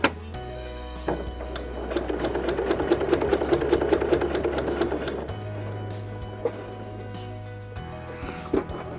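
A sewing machine quilts fabric coasters, with a steady, fast run of stitching that swells in the middle and then eases into slower, lighter passes, with a few brief clicks near the end.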